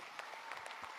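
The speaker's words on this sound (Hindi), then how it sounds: "मैं चाहता हूं एक बार जोरदार ताली" Audience applause at an Enagic business event, a steady wash of many hands clapping at moderate level, heard alone without speech.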